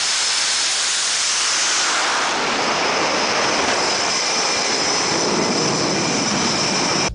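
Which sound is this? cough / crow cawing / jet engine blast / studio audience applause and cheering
jet engine blast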